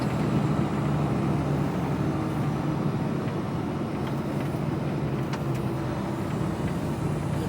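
A UK HGV truck rolling along the road toward Oxford, a steady low engine drone and tyre rumble heard from the cab, continuous and unbroken with no talk.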